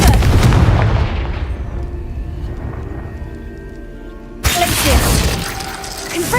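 The Confringo fire blast spell in Hogwarts Legacy goes off as a loud burst and crackling impact, fades into a quieter ringing tail, then a second sharp blast hits around the four-and-a-half second mark.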